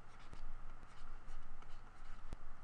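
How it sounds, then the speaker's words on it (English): Pen or pencil writing by hand on paper during a maths lesson on factors and multiples, a continuous soft scratching that swells and pauses with the strokes, plus a few light taps, close and quiet. "So I'm going to write this one down then."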